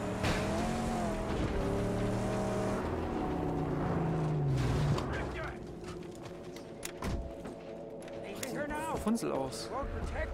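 Car engine driving in the Mad Max video game, a steady droning motor with shifting pitch that runs loud through the first half, then drops somewhat while someone talks over it.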